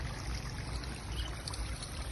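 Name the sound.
water running to waste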